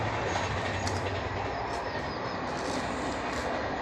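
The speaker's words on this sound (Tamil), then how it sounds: "ரயில்வே ஸ்டேஷன் பக்கத்தில் இந்த ட்ரெயின் போகுது பார்த்தீங்களா" Train rolling past near a railway station, a loud continuous rumble of wheels and cars at close range without a break.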